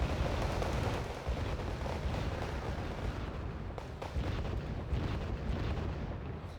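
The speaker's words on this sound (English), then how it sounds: "We've got mortars back and forth, just exchanging fire here." Mortar rounds trade back and forth in a Wargame: Red Dragon battle, a dense, continuous rumble of booms and distant thuds that stays loud throughout without a voice.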